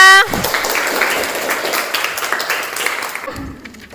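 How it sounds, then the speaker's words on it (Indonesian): Classroom applause from students after a lesson and prize-giving, a steady burst of clapping lasting a few seconds before fading at the end, with voices mixed in. "Tepuk tangan untuk kita semua"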